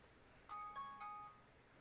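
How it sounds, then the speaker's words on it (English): A phone alarm chimes faintly during a Kerbal Space Program gaming session, a short run of a few electronic tones over about a second against a low background hum. "Oh, that's my phone alarm."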